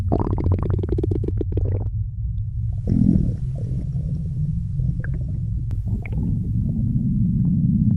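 Thick liquid chemicals steep in factory silos by a dike and make deep, continuous gurgling and rumbling. Bubbly low churning swells and settles, with a brief harsher burst near the start.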